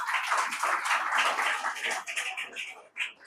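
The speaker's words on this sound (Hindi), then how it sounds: "जिन्होंने 2 बार बोले उनके लिए ताली बजा दे" A church congregation claps together in a dense, steady burst of applause that thins out and trails off into a few scattered claps.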